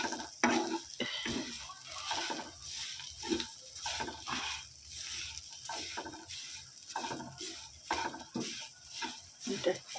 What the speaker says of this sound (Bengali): এখানে এই যে কারি পাতা, রসুন, জিরে, আদা সব দিয়ে ভাজা হচ্ছে